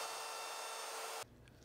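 Wood being hand-sanded with sandpaper along the grain while a coat rack is built, giving a steady, close, even scratchy rasp that stops abruptly near the end.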